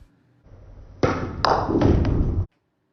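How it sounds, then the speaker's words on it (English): A pool 9 ball is shot into the pocket, giving a sharp knock of balls colliding, then a short rumble and thuds as it drops, close and fairly loud, followed by silence. "I fire the 9 ball in"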